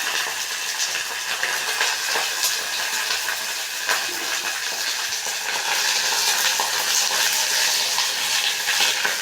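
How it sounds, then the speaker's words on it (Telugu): Hibiscus flowers frying in hot oil, crackling and sizzling steadily throughout as their moisture spits, a close, continuous hiss with scattered pops and no talking. "నీరు ఉండడం వల్ల మందార పూలు చిటపటలాడుతూ ఉంటాయి."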